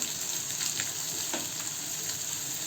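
Garlic and capsicum sauté with onion in a pan, giving a dense, continuous sizzle with faint spoon scrapes through it.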